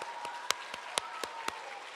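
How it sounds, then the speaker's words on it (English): Children at a school reading event clap briefly, a few loose, unsynchronized hand claps ringing out in a roomy space against a steady background hum. "I want everybody to give yourself a big round of applause."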